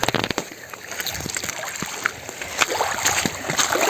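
A hooked carp splashing in reservoir water while being reeled in on a carp fishing trip, with irregular nearby splashes and sloshing, some louder bursts, and no clear talk.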